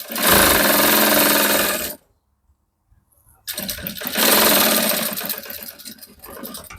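A sewing machine stitches along an existing seam while a fabric pouch is made, running in two loud, steady bursts of about two seconds each, separated by a brief silent pause, with no talk.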